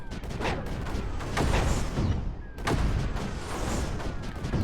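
Mortar firing in the video game Creeper World 4: repeated heavy thumping launches and booms in a dense, loud barrage with overlapping impacts, no talk.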